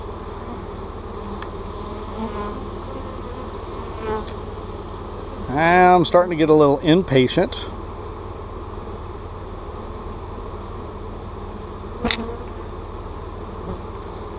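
Bees buzz in a steady, dense drone throughout while vacuumed bees are being put into a laying-worker hive, with someone briefly speaking over the hum partway through.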